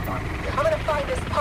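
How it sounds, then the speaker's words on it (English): Someone talks over the rumbling, chopping drone of a helicopter in the video game Need for Speed Unbound, steady in the background. "Is that a helicopter?"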